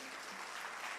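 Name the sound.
congregation applause for Jesus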